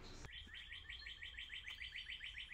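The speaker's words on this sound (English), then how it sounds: "Birds seem happy now." Outdoor birds chirp in a quick, regular series of bright repeated notes after a brief knock, fairly faint and steady with no talking.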